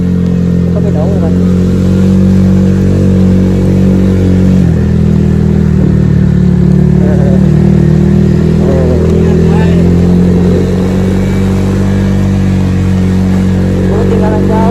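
A Honda Vario scooter's engine drones steadily while being ridden on a mountain touring road, loud and continuous throughout, with a talking voice over the engine noise.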